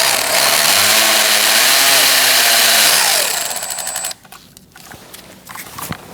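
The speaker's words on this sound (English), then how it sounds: "Now we're going to undo this T15 bolt." A power tool with a T15 Torx bit drives out a bolt on a 2016–2019 Chevrolet Cruze 1.4L during radiator removal, whirring steadily for about three seconds before winding down. Faint clicks and knocks follow.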